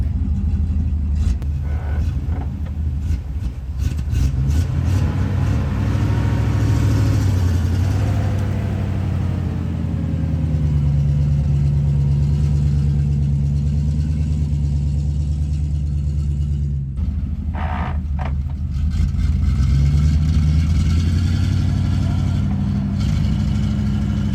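A Soviet Ural 375D truck that has sat in the grass for 10 months runs loud and close, its engine rumbling with mechanical clatter and a shifting tone, briefly dipping before picking back up.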